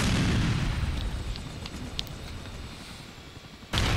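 A helicopter blows up after being hit in the GTA IV video game, a deep rumbling explosion that fades into crackling burning debris, with a fresh loud burst near the end.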